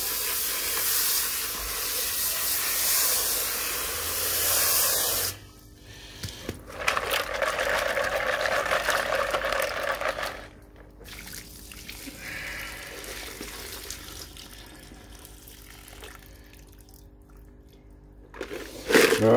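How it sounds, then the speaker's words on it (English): Water rinsing sand off CPU gold recovery material, a loud hissing rush of running water that cuts off abruptly, then returns in quieter bursts and trickles, with no voices. "One more rinse, for good measure."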